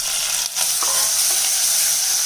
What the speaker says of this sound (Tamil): இப்போ இதுலேயே நறுக்கி வச்சுருக்க தக்காளி சேர்த்துறேங்க.